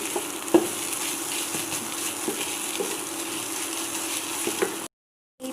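Soybean chunks frying in a pan for a sweet halwa produce a continuous close hiss and sizzle with faint occasional taps of stirring, then the sound cuts abruptly to silence.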